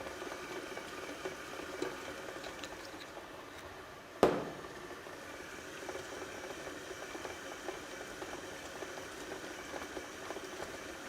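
A planetary stand mixer kneads breadstick dough as oil is worked in, a steady low motor hum with faint churning and one sharp knock partway through.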